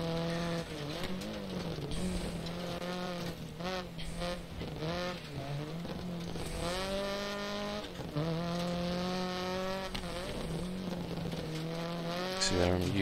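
A Subaru Impreza rally car in Dirt Rally revs hard through gear changes, the engine note rising and falling repeatedly as tires skid and scrabble through corners, with someone talking over the action.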